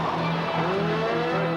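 Race cars, among them a Peugeot 505 Turbo at the 1988 SCCA Nationals, sweep past in a brief, loud roar of engines and tires.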